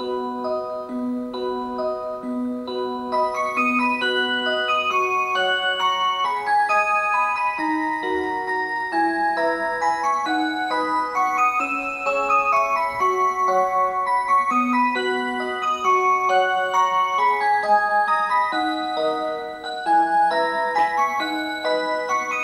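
A Citizen PM-17B karakuri clock plays a chiming melody, a steady run of bright, bell-like music-box notes that goes on without pause for over twenty seconds, at an even and fairly loud level with no voices.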